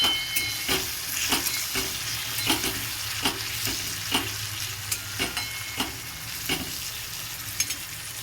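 Spices with turmeric frying in a pan, a close, steady sizzle broken by regular scraping clicks as the mixture is stirred throughout.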